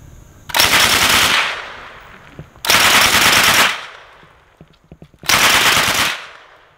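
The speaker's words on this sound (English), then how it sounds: "We were shooting supersonic ammunition this day, which is actually quite a bit louder than when you shoot subsonic ammo" Three loud, close rifle bursts of supersonic ammunition from custom-built guns at an outdoor shooting meet, each a dense rapid-fire roar lasting about a second, separated by short pauses with faint clicks and echoes.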